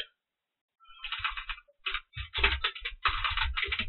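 Rapid clicking of computer keyboard keys in short, dense bursts with brief pauses, close and fairly loud, with no voice over it.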